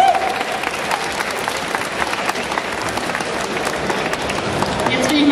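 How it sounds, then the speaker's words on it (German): Loud, sustained audience applause fills the hall at Vienna Comic Con, a dense wash of clapping and crowd noise that swells slightly toward the end, with a few cheers mixed in. "Applaus für Shiloki!"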